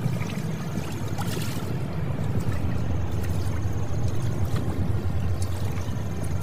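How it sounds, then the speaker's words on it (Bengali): Wooden oars pull a boat through water with a continuous low slosh and swish, backed by a steady wash of wind and water and no talking. "পলাশ নৌকার দাঁড় টানতে শুরু করে দেয়।"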